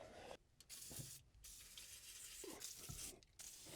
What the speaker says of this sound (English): let's spray some lube on the track right now